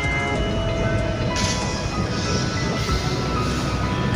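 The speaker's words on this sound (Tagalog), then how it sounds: "May bagong dating na naman na train." An LRT Line 1 train pulls into a station, a steady loud rumble of wheels and carriages close by with faint squeals above, no talking.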